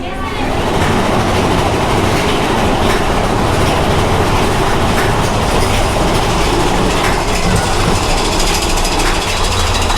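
The Big Thunder Mountain roller coaster train at Magic Kingdom rumbles and clatters loudly and continuously from on board, a dense roaring ride noise with riders' voices mixed in.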